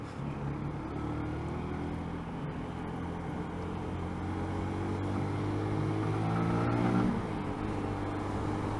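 A Skoda car drives along with a steady engine drone that rises gradually in pitch as it accelerates, rumbling close and continuous without speech.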